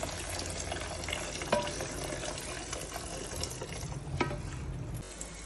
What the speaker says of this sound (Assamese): এতিয়া আমি ইয়াতে পানী ঢালি দিম পানী দিব লাগিব এইখিনি গৰম পানী